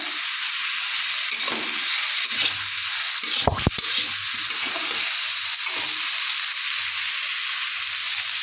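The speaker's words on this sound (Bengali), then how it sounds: "এবার একটু নেড়ে চেড়ে নেবো" Green banana and magur fish masala stirred in a hot pan, a steady frying sizzle and hiss with a few soft scraping strokes and one brief sharp knock near the middle.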